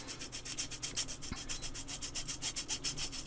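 Pebeo watercolor paint is grated in quick, even back-and-forth strokes, a close, faint, rhythmic rasping scrape repeating steadily with no voices.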